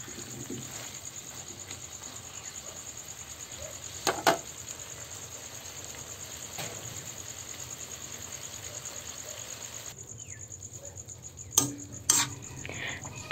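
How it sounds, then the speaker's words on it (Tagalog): Food in a pot with a little brown sugar stirred in, a steady low sizzle running throughout, punctuated by a few sharp utensil clinks near the end. "Haluin lang natin to guys"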